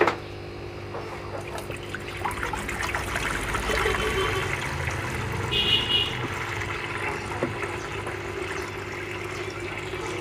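Seawater poured from a 10 litre can into an aquarium, a steady close trickle and splash running continuously under faint background hum.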